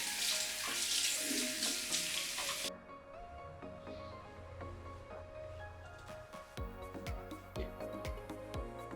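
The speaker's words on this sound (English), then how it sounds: "now that I've worked up a lather, I'm gonna go ahead and wash this off" A bathroom sink tap gushes loudly while a face is rinsed clean of lather, then the flow cuts off, followed by soft splashes, drips and handling sounds close by.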